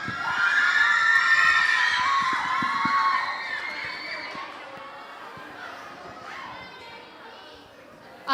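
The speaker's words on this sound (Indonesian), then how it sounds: "Beri tepuk tangan yang meriah." A school audience at a chain-poetry performance in Padang cheers and shouts, high excited voices rising loudly at first and then fading over several seconds.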